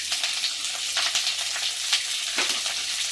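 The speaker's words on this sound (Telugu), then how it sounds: "మనం కరివేపాకు వేయించుకుందాం" Curry leaves frying in oil in a pan on low heat for a tomato chutney crackle and sizzle continuously up close, with scattered sharp pops and stirring noises, no speech.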